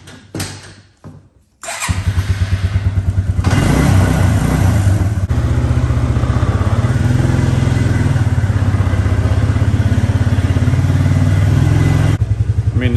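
A four-wheeler ATV engine cranks with a few weak tries, catches, then revs and settles into a loud, steady idle close by, with no talking.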